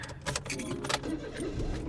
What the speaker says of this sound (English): I need to turn on the car.